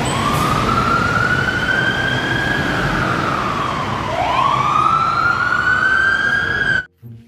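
A toy fire truck siren wails in long rising and falling sweeps, loud and close, then cuts off abruptly at the end.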